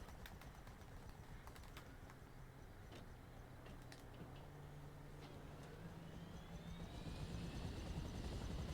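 Helicopter in GTA Online with a steady rotor drone throughout, a low hum that slowly rises in pitch and a higher whine building near the end, with scattered clicks on top.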